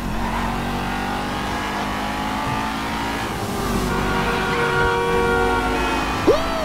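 A stolen car in GTA 5 revs loudly and continuously, the engine note rising and holding with a steady drone, a brief squeal near the end.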